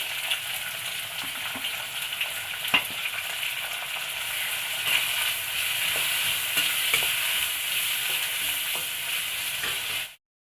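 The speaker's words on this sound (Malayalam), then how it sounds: "ഒരു വലിയൊരു സവാള കട്ട് ചെയ്തിട്ട് കൊടുക്കാം" Chopped onion sizzles loudly in hot oil with fennel seeds, cinnamon, cloves and cardamom, a dense continuous frying hiss with occasional stirring scrapes, cutting off abruptly.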